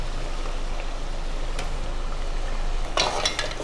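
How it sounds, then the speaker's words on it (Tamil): Cut eggplants being stirred into hot oil in a pan for a Tamil ennai kathirikai kulambu, a steady sizzle under a low hum, then a burst of spoon scraping and clinks against the pan near the end. "இதெல்லாத்தையும் நல்லா கலந்து விட்டுடலாம்."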